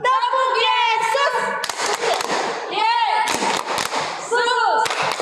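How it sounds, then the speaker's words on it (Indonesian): Children at an online Sunday school service clap along in a Sunday school clapping song, sharp rhythmic claps in bursts mixed with singing and an adult leader's voice over a Zoom connection. "Kita tepuk Yesus ya semuanya ya."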